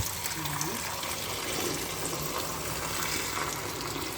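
Water splashes steadily into a pan for several seconds, a continuous gushing pour close by, with a voice speaking briefly over it.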